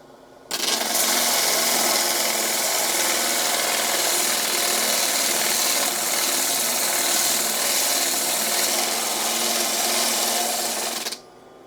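A geode ground against a diamond polishing disc gives a loud, steady, high-pitched abrasive whine that runs unbroken for about ten seconds and then cuts off, with no one speaking.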